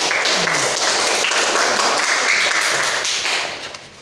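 A classroom of students applauds with dense, steady clapping close by that holds for several seconds, then tapers off at the end.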